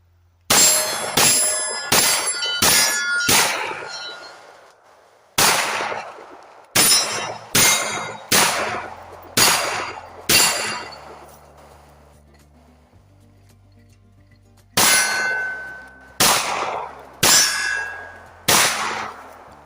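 Pistol shots fired through a budget Zulisy Z1-R red dot sight at steel targets: loud, sharp reports, each followed by a ringing metallic clang, in quick strings of several shots separated by pauses, with no talking.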